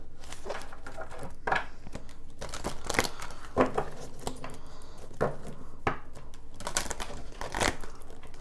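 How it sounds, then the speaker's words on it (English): Tarot cards being shuffled by hand in a quiet room, a series of irregular crisp riffling clicks and soft slaps at close range, with no talk. "That was a great shuffle, guys."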